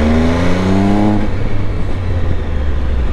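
An MV Agusta Enduro Veloce 950 motorcycle accelerating on the road, its engine note rising in pitch before dropping into a rushing wind and road roar, heard close from the rider's position.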